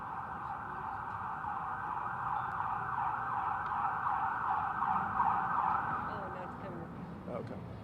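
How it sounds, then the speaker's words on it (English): Emergency vehicle sirens pass outside during a Houston police press briefing at a parking garage, a steady wailing tone holding for several seconds at moderate distance over low traffic rumble, fading slightly at the end. "Wait till the sirens pass."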